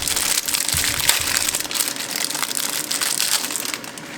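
Plastic Ziploc bag packaging is handled and pulled open, giving a few seconds of close, continuous crinkling and crunching with no talking.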